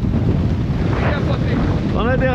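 Strong wind gusts of about 30 knots buffet a boat at sea, a loud rushing roar with water noise throughout and rising whistling tones near the end.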